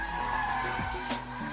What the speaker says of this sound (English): hammer the throttle down for extra power, and now you have to catch the slide with the steering